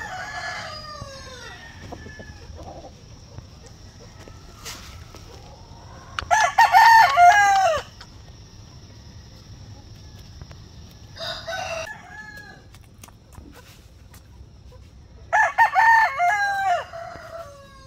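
Asil-cross gamefowl roosters crow at a farm, three loud crows in turn against a steady low background, with quieter clucking and other bird calls scattered between them.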